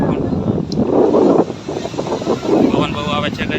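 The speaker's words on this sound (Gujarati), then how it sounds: "પવન બહુ આવે છે ગાઈસ જોરદાર." Strong wind at a seashore near a bridge, rumbling in gusts and buffeting the microphone while someone talks over it.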